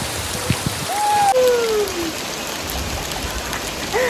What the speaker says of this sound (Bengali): এরকম বৃষ্টির দৃশ্যের মজা নাও